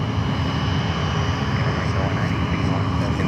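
A jet airliner roars close by at Fort Lauderdale airport, a loud, steady broadband engine rumble filling the whole moment.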